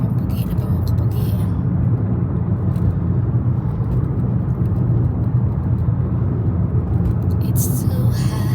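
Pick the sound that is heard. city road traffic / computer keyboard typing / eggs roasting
city road traffic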